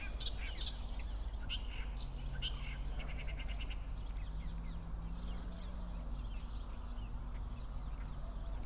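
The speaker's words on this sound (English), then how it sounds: "Oops, there are birds again." Birds chirping outdoors near the Mount of Beatitudes, quick bright tweets clustered early then thinning, over a steady low rumble of wind or distant hum.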